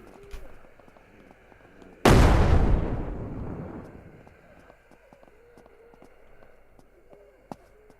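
A single loud explosion bursts in the survival video game SurrounDead, booming sharply and then decaying over a couple of seconds amid quiet in-game ambience and faint clicks, with no talk over it.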